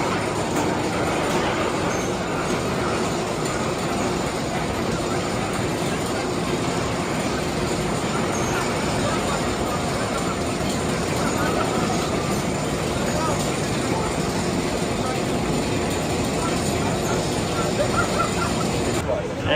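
A roller coaster train pulling out of its station at Six Flags Great Adventure produces a loud, sustained mechanical rumble and roar that holds steady throughout, with crowd voices mixed into the background.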